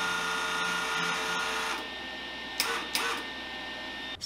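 A Harbor Freight Titanium flux core welder feeds wire with the trigger held, giving a steady high whirring hum for under two seconds that cuts off, followed by a few faint clicks and short bursts in near quiet.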